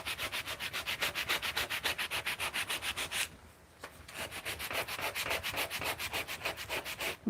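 Hand sanding with 3M sandpaper, likely on wood, makes a rhythmic series of close, scratchy rubbing strokes, steady back-and-forth, with a brief pause midway before the strokes resume.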